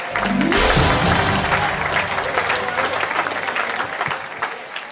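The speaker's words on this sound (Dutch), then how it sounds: "ik geef jou applaus." An audience at a Dutch sports and entrepreneurs awards show bursts into sustained, loud applause for the winner of a bicycle prize, a dense wash of clapping that carries on for the full five seconds.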